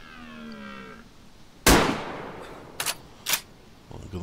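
A single loud gunshot aimed at a deer rings out in a hunting video game, a sharp broadband crack with a decaying tail, followed by two fainter short impacts; a tonal hum fades out beforehand.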